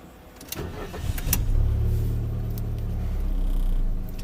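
A Ford Fiesta 1.4 Titanium engine cranks briefly and catches, then settles into a steady low idle rumble, close by and fairly loud.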